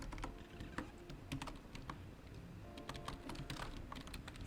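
Steady, quiet typing on a computer keyboard, with rapid irregular key clicks continuing throughout and no voice.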